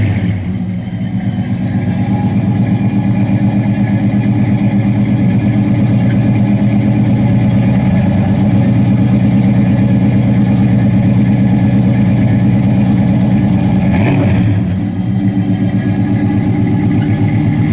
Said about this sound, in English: Real good sound and flow master exhaust.